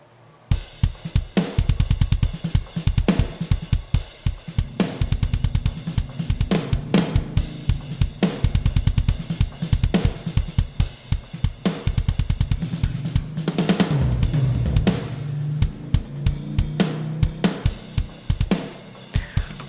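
A metal drum mix with the low end boosted by a Pultec-style EQ plugin pounds out rapid, punchy kick and floor tom hits with crashing cymbals, loud and dense from start to finish.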